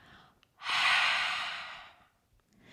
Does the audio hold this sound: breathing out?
yes